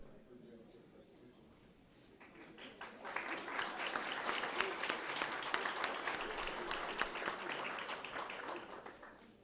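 Applause from an audience at a school district board of trustees meeting honoring exceptional teachers, swelling up after a couple of quiet seconds into steady, dense clapping that holds to the end at a moderate distance.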